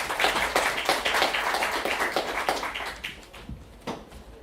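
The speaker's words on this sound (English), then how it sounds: "Round of applause for Abubaker." An audience claps for Abubaker at a business partnerships event on Somalia: a loud burst of many hands clapping together that steadily thins and fades over a few seconds, ending in a few scattered claps.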